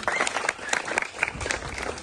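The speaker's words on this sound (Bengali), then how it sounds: "ম্যাডামের জন্য একটা হাততালি দেওয়া হবে" Applause at a school tree-planting and dengue-awareness event in Rangpur: a short burst of many hands clapping from a gathered crowd, fairly close and continuous for about two seconds.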